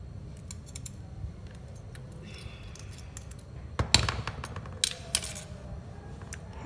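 Orthodontic wire being cut for a wax trial base produces a few sharp metallic snips and clicks, with the loudest cut near the middle, over a low steady room rumble.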